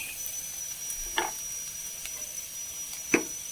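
Onions frying in a pan with a soft, steady sizzle, broken by a couple of brief stirring clicks and scrapes, fairly quiet and close with no talk.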